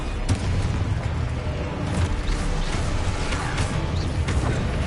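Spell blast from the Confringo blasting charm in a Harry Potter video game: a loud, dense, rumbling explosion roar that holds steadily for the whole stretch with small bursts inside it.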